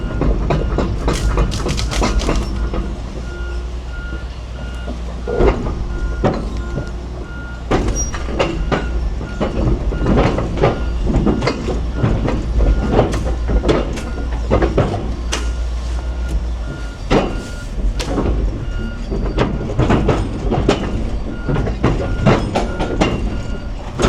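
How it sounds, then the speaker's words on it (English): Steel track grousers on a tracked machine clank and rattle as it walks at a fast pace, a loud continuous metallic clatter with repeated sharp knocks, heard up close. "loves the sound of grousers first thing in the morning, walking at fast pace"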